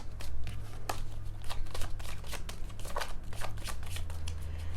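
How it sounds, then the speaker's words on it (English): A deck of tarot cards is shuffled up close, rapid riffling flicks and soft slaps in an uneven rhythm, with no speech. "So I'm going to pull some cards here."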